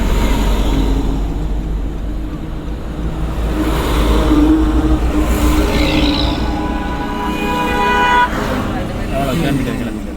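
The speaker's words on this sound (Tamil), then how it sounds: "நமக்கு பின்னால் வண்டி வருது" Vehicle coming up from behind on the road during a driving lesson, a passing engine and traffic rumble with a short horn toot, heard under steady conversation inside the car.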